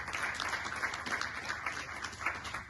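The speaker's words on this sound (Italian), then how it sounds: "La salutiamo con un grande applauso di benvenuto alla dottoressa Fiorani" Welcome applause from an audience at a public event in Vigodarzere, a steady wash of many hands clapping that holds at an even level throughout, with no voices over it.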